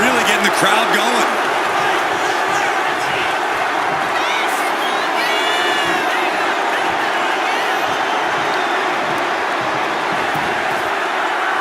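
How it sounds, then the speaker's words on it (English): Arena crowd noise from a WWE 2K25 wrestling match, a steady loud roar of cheering that fills the whole stretch, with brief slaps and thuds from the ring. "Mark is really getting the crowd going."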